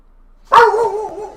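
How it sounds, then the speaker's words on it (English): A single loud, close dog bark with a short whining tail, sharp onset followed by a wavering yelp that fades within a second. "What are you barking at, dog?"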